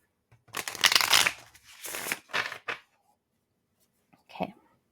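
Tarot cards are shuffled in several close, crisp riffling bursts, each lasting about a second, followed by a brief final flutter of cards after a pause.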